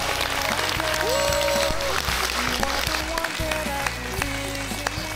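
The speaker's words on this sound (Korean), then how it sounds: "박수 한번 주십시오" Studio audience applause on a Korean talk show, a dense burst of clapping that fades and thins toward the end, mixed with background music and tones.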